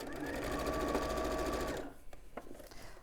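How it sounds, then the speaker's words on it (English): A sewing machine stitches around the edge of a bag, running as a fast, steady, close whir for nearly two seconds before stopping, followed by a few soft handling clicks. "And then I'm going to sew it all the way around the edge."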